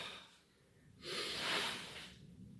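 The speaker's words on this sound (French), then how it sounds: "Je pousse, j'expire." A single forceful, breathy exhalation during a karate-style breathing drill, a rushing burst of air lasting about a second, close and fairly quiet, with no talking.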